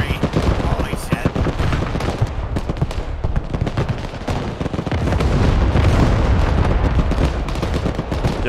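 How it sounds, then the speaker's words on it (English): Dense artillery barrages and rattling machine-gun fire in the Broken Arrow war game make a continuous, loud stream of booms and rapid shots, with voices talking over the din. "Look at all that artillery."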